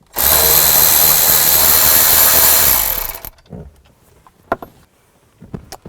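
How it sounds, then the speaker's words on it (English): Power tool removing bolts with a 7mm socket on a 2000-2006 Chevy Tahoe dash: a loud, close, steady high whine for about three seconds, then stopping, followed by faint clicks and handling noises. "There's 2 bolts, one here, one over here. Use a 7mm socket. Take those out."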